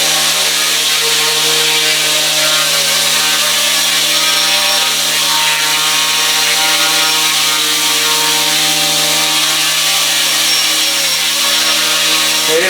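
Small RC E120S model helicopter hovering indoors in a workshop, a loud steady high-pitched motor and rotor whine that holds without pause, close and without talk.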